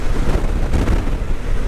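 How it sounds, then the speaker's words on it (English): Heavy, buffeting wind roaring against the microphone on a bridge during a motorcycle ride, loud and continuous with low rumbling gusts and no voices. "it is windy up on this bridge"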